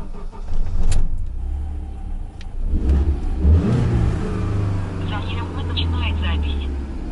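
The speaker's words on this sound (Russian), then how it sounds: "Вот, переключается на газ и глохнет." A car running on propane falters as its engine switches over to gas and stalls, with a low, uneven engine rumble and revving heard up close inside the vehicle while someone talks over it.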